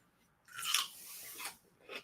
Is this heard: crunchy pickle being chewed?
yes